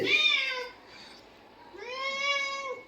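A pet cat meows twice up close, a drawn-out rising cry followed after a short pause by a second longer, wavering meow.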